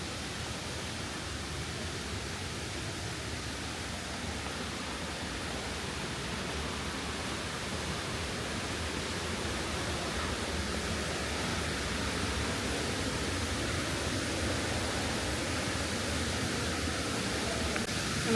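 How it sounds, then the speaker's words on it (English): A waterfall beside rice terraces, its flowing water a steady, even rush of broadband noise that holds without pause, moderately faint and with no talk over it. "I'm excited, I can hear water, I can see a bit of a waterfall."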